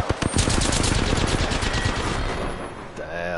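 A video game firefight: loud, rapid automatic gunfire rattles continuously, then tapers off toward the end of the clip.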